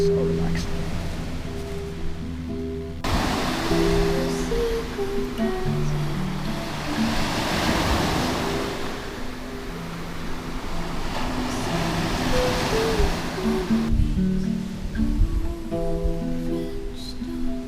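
Ocean waves creep up onto a sandy shore at Koh Samui beach in Thailand, a steady soft wash of surf at moderate level with a person talking over it.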